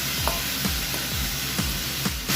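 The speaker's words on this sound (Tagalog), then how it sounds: "sutay-sutay natin guys hanggang sa mag-melt o mag-crack ang ating fresh tomato" Fresh tomato sizzling steadily in a frying pan while being stirred, with a few scraping strokes of the spoon recurring roughly every half second over a constant close frying hiss.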